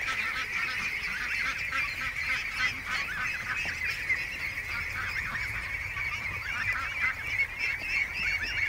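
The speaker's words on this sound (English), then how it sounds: "The ducklings panicked and Doug's upset" An upset bird honks rapidly and repeatedly near panicked ducklings, a loud, close, continuous stream of harsh calls.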